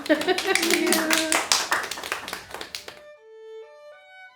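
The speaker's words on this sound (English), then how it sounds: "let's have a round of applause for everybody here" An audience at a musicians' instrument demonstration claps together for about three seconds in uneven, fairly close bursts, then the clapping stops and a few sustained instrument tones ring out alone.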